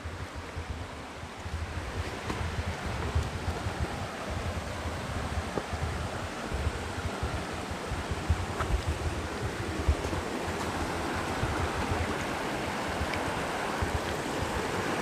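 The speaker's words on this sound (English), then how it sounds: "we got the waterfall back there." Steady, loud rushing water from a waterfall and river beside deep green mossy rocks, a continuous broadband roar with no break and no voices, slightly windy at the microphone.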